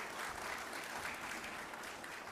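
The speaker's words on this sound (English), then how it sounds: "we want you to give another round of applause for the excellence" Gala crowd at the Caribbean Broadcasting Union Media Awards applauds the Dancing Africa dance troupe, a steady, even wash of many hands clapping throughout, heard alone.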